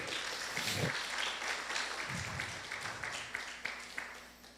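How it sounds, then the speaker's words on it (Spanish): Steady applause from a church congregation, a dense wash of clapping that holds for several seconds and slowly thins out, with a few louder claps standing out near the end. "Démosle un aplauso al Señor, por favor."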